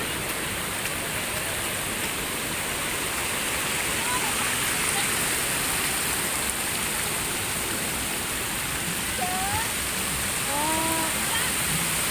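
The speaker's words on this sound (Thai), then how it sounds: "ฝนตกแล้วพี่น้อง" Rain and the rushing water of Tad Lo waterfall in southern Laos make a steady, dense hiss with no break, with faint voices briefly surfacing near the end.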